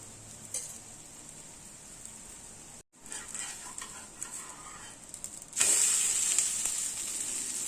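Adai dosa batter fries on a pan with a little oil, a soft sizzle with faint stirring scrapes that swells into a louder, brighter hiss near the end, no voices.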